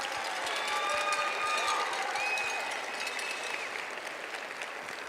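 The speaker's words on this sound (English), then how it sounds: "Let's give your faculty, your family and friends a round of applause." Applause fills the hall at a nursing pinning ceremony at SLCC as the crowd honours faculty, family and friends: sustained dense clapping with a few high whistles and cheers on top, easing slightly by the end.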